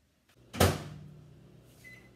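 A microwave oven heating butter in a microwave-safe bowl starts with a sharp clunk. A low humming drone follows and slowly fades, and a short high tone sounds near the end.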